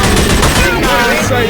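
Rapid gunfire in the zombie shooter Left 4 Dead 2, a dense burst of shots filling the whole moment, loud and close, with game voices calling out underneath.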